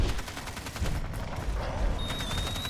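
Turrets in the video game Evolve fire rapid, continuous bursts of gunfire, a dense, steady rattle of shots with a faint high electronic tone near the end.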